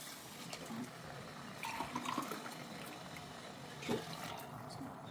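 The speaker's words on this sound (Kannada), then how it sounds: "ಸೊ ಎಲ್ಲದಕ್ಕೂ ಹಾಟ್ ವಾಟರ್ ಆ್ಯಡ್ ಮಾಡ್ತೀನಿ" Hot water pours into bisibele bath as a faint, quiet trickle and splash, low in level with a soft background.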